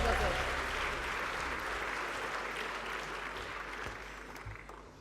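An awards ceremony audience applauds and cheers, a dense wash of clapping that starts loud and slowly tapers over several seconds, with some voices mixed in.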